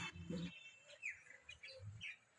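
Myna birds perched on an areca palm give a few faint, short chirps and calls, quiet and somewhat distant.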